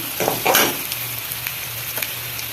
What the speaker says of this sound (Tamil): இந்த சின்ன வெங்காயத்தை நான் கொஞ்சம் நைஸாக அரைச்சி வச்சுருக்கேன் அதையும் போட்டலாம்